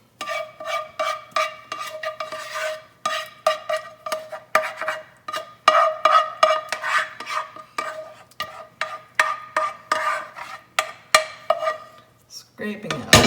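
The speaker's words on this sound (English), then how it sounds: "Scraping out all the meat sauce I can." A spoon scraping meat sauce out of a heavy pan during lasagna assembly: close, repeated metallic scrapes and clinks in an uneven rhythm, ending with a louder clatter.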